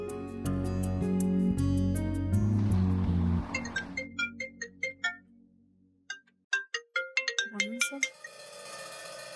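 A phone rings repeatedly while a call is being placed, its bright electronic ring tones sounding in a quick series of beats after a stretch of background music, fairly loud and close.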